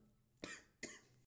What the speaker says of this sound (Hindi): थोड़ा सा क्या हो गया खांसी आ गई थी